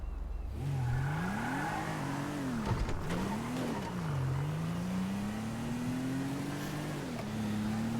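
A car drives through Los Santos in GTA roleplay. The engine hums close and steady, and its pitch swings up and down with throttle changes before settling into a long, rising drone.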